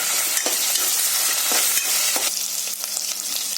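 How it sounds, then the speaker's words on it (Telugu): Ginger garlic paste fries in a hot pan for a coconut milk pulao, giving a loud continuous sizzle punctuated by several sharp spoon-and-pan scrapes as it is stirred, with no talking. "కొంచెం జింజర్ గార్లిక్ పేస్ట్ యాడ్ చేద్దాం, 1 టేబుల్ స్పూన్. ఇది కొంచెం పచ్చివాసన పోయేంత వరకు ఫ్రై చేసుకుందాం."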